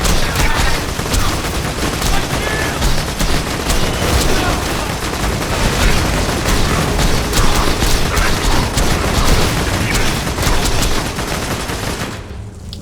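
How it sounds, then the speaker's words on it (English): Maliwan rocket launcher firing in Borderlands 2, a dense barrage of loud explosive blasts and gunfire rattling almost continuously before cutting off abruptly at the end. "by the sound of it, I'd hazard an educated guess that it's a Malawan launcher"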